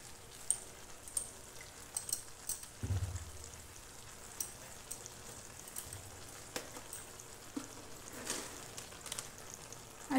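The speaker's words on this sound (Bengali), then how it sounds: "এটা আমি জল দিয়ে দিচ্ছি" Water goes into a pan of eggplant, potato and tomato curry with a short splash, followed by a faint, steady sizzle and bubbling and scattered small clicks.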